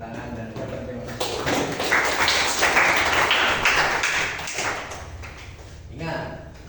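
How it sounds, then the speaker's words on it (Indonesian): Classroom applause from students after a presentation, a dense patter of many hands clapping for several seconds at moderate distance, swelling and then fading, with a brief burst near the end. "silakan tepuk tangan dan ucapkan terima kasih"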